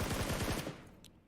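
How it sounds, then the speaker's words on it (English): Rapid automatic gunfire in the mobile battle-royale game Battlegrounds Mobile India during a BGIS 2025 esports semi-final match, a loud burst of quick shots for about half a second that then fades out. "Sarvid, he heard those gunshots"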